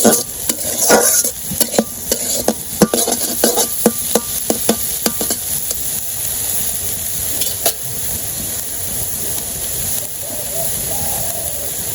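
Bottle gourd, sweetened with a little sugar, sizzles in a pan while being stirred, with steady frying hiss and repeated clinks and scrapes of the utensil against the pan, close and fairly loud.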